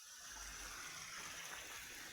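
Water from a small natural spring flows steadily into a little channel, a faint, continuous close-up trickle and hiss with no voices.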